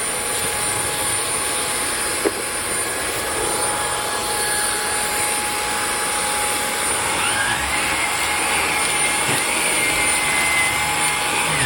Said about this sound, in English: Now I'm going to do it without the brush roll.